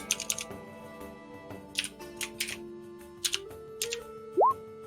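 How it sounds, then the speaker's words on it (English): Light, irregular clicks of keys tapped on a computer keyboard come in short bursts with pauses between, close and fairly quiet, followed by a brief rising pop near the end. "Oh, I can type."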